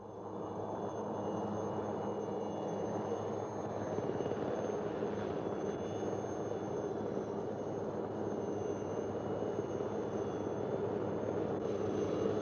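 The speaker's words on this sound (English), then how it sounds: "the helicopter, which has flown out to resupply them" A military helicopter flies over Borneo jungle to resupply a patrol in 1966, a steady droning rotor and engine hum at moderate distance, continuous and even with no voices.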